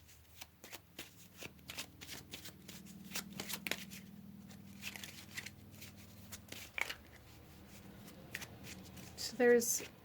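Tarot cards shuffled and drawn during a pick-a-card reading: close, quiet, rapid papery flicks and riffles in irregular clusters, with a soft voice at times and a louder rustle near the end.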